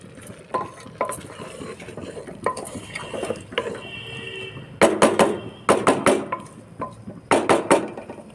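A pot of red lentil dal with Malabar spinach, cucumber, salt, turmeric, cumin and chili powder gets stirred with a utensil, making bursts of scraping and clinking against the pot between quieter pauses.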